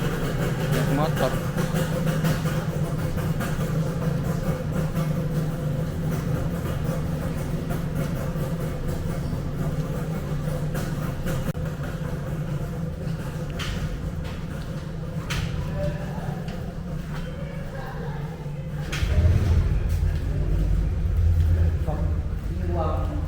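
A motorcycle engine runs steadily in a basement, a continuous mid-pitched idle rumble that swells slightly near the end, with people talking over it.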